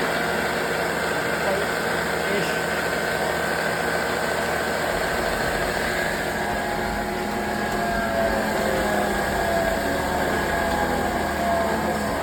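Old belt sander fitted with a new sanding belt, running steadily with a continuous motor whir and hum, loud and close for the whole stretch without pause.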